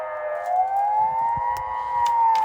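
An air raid siren wails with a single steady, slowly rising tone, holding long and unbroken while faint background noises tick beneath it.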